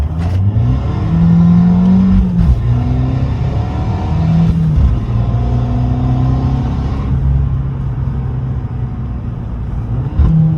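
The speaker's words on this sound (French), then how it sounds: "Elle monte haut dans les tours quand même." A Fiat 500 Abarth with a Stage 1 tune revs hard and close, the engine note climbing and falling in several strong pulls over a steady rumble, with no voices over it.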